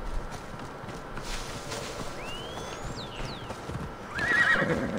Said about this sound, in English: Where's her horse?